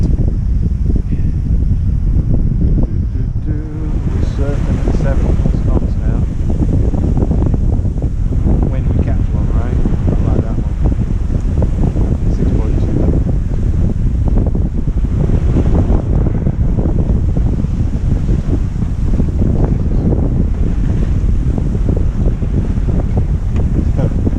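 Wind and sea waves at the coast, heard from a sailing boat, a loud continuous roar of wind buffeting the microphone over surging surf, with a voice speaking intermittently.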